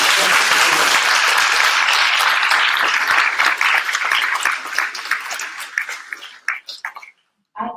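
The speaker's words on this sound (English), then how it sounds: "Give a rousing applause for our panelists." Rousing applause for panelists after a film screening and panel on a university campus, loud dense clapping from a crowd that thins out into scattered claps and stops near the end, with a brief burst starting again just after.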